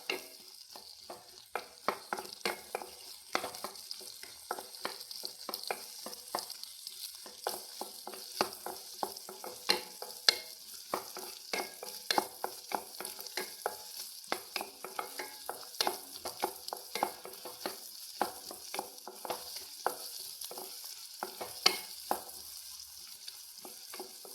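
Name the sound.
stirring banana recipe ingredients frying in a pan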